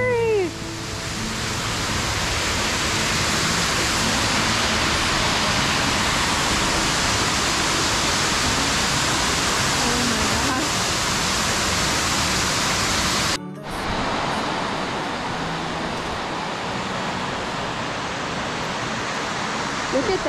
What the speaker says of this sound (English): It's an awful lot like water falling over a cliff.